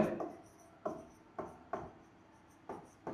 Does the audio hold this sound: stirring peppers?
no